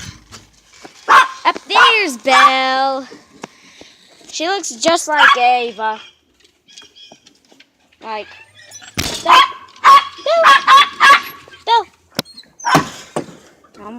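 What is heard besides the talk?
dogs barking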